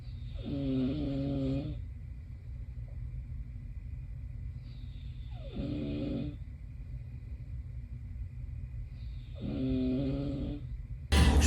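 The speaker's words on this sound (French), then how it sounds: "elle ronfle, mais elle ronfle de fou" A woman snores loudly in a hostel room, three long rumbling snores spaced a few seconds apart against quiet room hiss, then a sudden loud noise at the very end.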